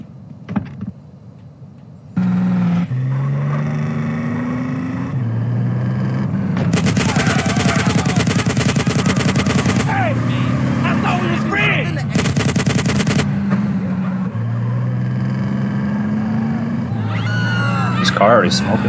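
Gunfire in the video game GTA San Andreas, rapid bursts of shots over a loud vehicle engine drone, with repeated dense stretches of firing and speech heard throughout.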